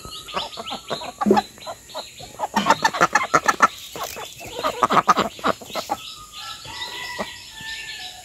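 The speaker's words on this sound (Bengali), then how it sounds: "দেখছেন এরকম ভাবে কেউ হাঁস মুরগি পালেন আপনারা?" Chickens and ducks kept on a village homestead cluck and chirp in quick, uneven bursts close by, several birds calling over each other with no one talking.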